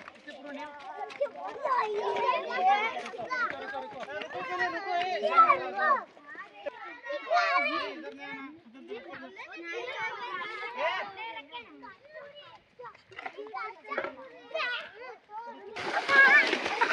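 Children play and splash in river water, with repeated bursts of splashing mixed with lively kids' chatter and shouts, fairly close and continuous throughout.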